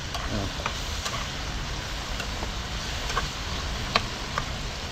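Freshly caught fish fries in a wok at a campsite, steady low sizzling and crackling with a few faint clicks and taps over the constant hiss.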